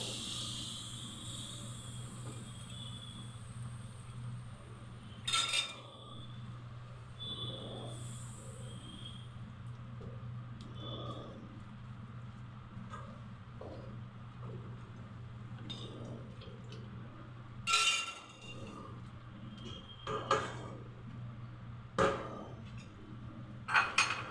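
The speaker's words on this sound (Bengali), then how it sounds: "আস্তে আস্তে দিব আস্তে আস্তে নাড়তে থাকবো" Milk is stirred into a white sauce in a pan, soft scraping and light clinks of a utensil against the pan over a low steady hum, with a few sharper knocks scattered through.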